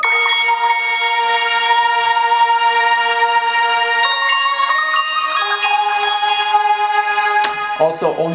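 Bright synth effect layer from a chorus section of a piano-loop hip-hop beat, with sustained tonal stacks that shift pitch around four and five seconds and a brief sweep near the end, loud and continuous.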